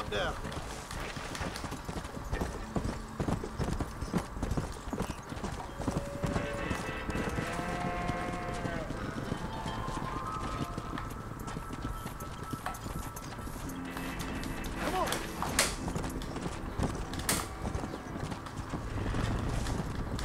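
Horse hooves clip-clopping steadily while herding cows in the video game Red Dead Redemption, with occasional whinnies and cattle sounds, continuous and mid-distance, with speech over parts of it.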